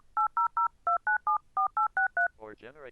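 Loud DTMF telephone dialing tones generated by DecTalk speech synthesis software: eleven short, evenly spaced beeps in a quick steady rhythm, with a brief burst of synthetic voice at the very end.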